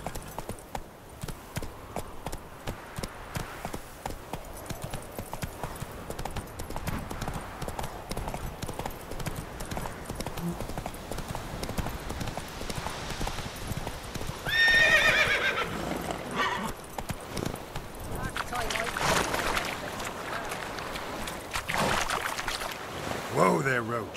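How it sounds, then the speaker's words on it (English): Horse hooves clip-clopping steadily in The Witcher 3, with a horse neighing midway and near the end, and someone talking over the hoofbeats. "Whoa there, Roach"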